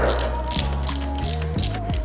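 A hand ratchet clicks rapidly in several short bursts while snugging up turbo coolant banjo fittings on a built four-cylinder engine, loud and close with no talk.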